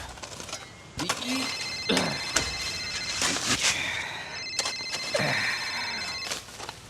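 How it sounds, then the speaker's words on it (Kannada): A telephone rings repeatedly indoors in a domestic drama scene, its electronic ringing tones recurring through the clip while people speak over it. "ಗೋಪಾಲ ಫೋನ್ ಎತ್ತೋ, ಅರ್ಜೆಂಟ್ ಇದೆ."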